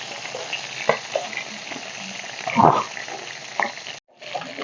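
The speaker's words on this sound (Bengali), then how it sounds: "উল্টে পাল্টে বেশ লাল লাল করে ভালো করে ভেজে নেবো মাছের মাথাগুলো" Katla fish heads fry in a wok, a close, steady sizzle broken by scattered spatula clicks and a louder burst of crackling as they are turned, with a brief gap near the end.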